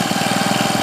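A Husqvarna 224L string trimmer's small two-stroke engine runs steadily close by, with a fast, even pulsing buzz and no voices over it.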